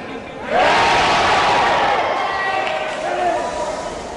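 Crowd at the back of the House of Representatives chamber shouting their vote in a loud, sustained roar that swells suddenly and holds, with voices mingling throughout.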